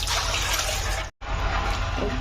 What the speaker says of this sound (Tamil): தண்ணி ஊற்றி நம்ம ஒரு 4-5 வாட்டி வாஷ் பண்ணிக்கலாம்.